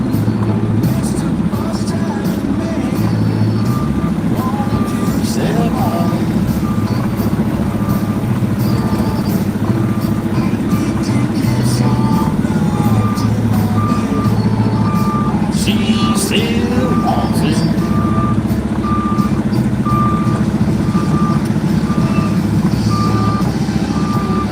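Truck reversing with a steady, evenly spaced series of backup beeps over a loud, continuous engine rumble, with people talking intermittently over it.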